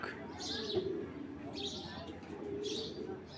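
Girebaz pigeons coo softly in a loft, giving faint, low murmurs with a few higher chirps mixed in, quiet and steady throughout.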